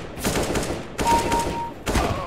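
Automatic gunfire from the video game Counter-Strike crackles in three rapid bursts, loud and close, separated by brief pauses.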